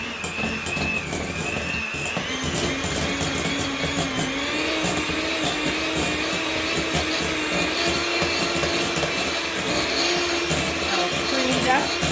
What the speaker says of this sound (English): So I'm just going to beat that with the mixer.